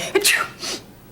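A single sharp sneeze bursts out close by in a dusty room, a quick inhale followed by a forceful burst, then a softer trailing breath.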